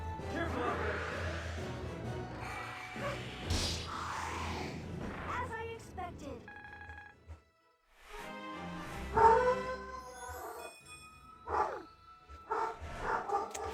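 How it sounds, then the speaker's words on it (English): A dog barks repeatedly nearby in short bursts and yips, with a few whimpers and pauses between, while someone talks intermittently over game sounds. "my dog is barking at something."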